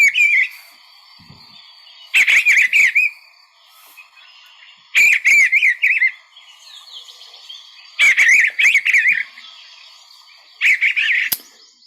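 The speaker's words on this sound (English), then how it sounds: "Actually a thriving species, the eastern bluebird. It sounds like this." Eastern bluebird sings soft, warbling phrases in four spaced bursts, clear and fairly close, heard outdoors at Montezuma near Seneca Falls, with quiet background between phrases.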